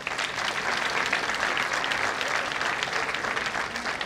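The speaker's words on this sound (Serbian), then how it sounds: "Molim vas jedan aplauz." Audience applause at a public event in Zemun with tamburica players, a thick continuous wash of clapping from a crowd, steady and full for the whole stretch.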